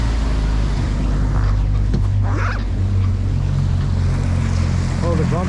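A Sea Swirl boat repowered with a used Yamaha F250 outboard runs on open water, its steady low engine drone loud and continuous under wind buffeting and the wash of waves.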